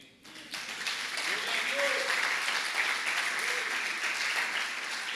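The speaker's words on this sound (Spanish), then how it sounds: "Le da un aplauso al Señor" A church congregation bursts into sustained applause, a thick, even wash of clapping that swells within the first half second and holds steadily, with voices blending in among the crowd.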